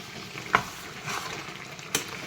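Mutton being stirred and sautéed in a pan, with a steady sizzle and two sharp scrapes of the spoon against the pan, close and moderately loud.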